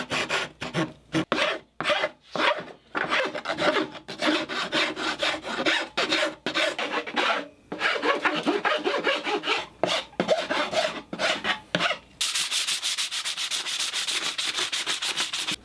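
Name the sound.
filing rough edges of a scrap wood shield smooth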